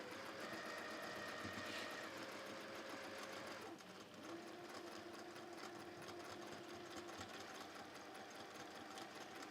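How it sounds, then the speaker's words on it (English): A sewing machine stitching across the top edge of a fabric piece, its motor whirring in a fast even rhythm that briefly pauses, then resumes steadily at close range. "I'm just going to sew across the top here for a minute."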